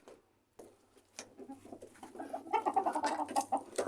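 Pet birds, pigeons or doves among them, coo and cluck in a room after being carried back indoors, the calls starting quietly and building into a busy, close overlapping chorus with faint rustling beneath.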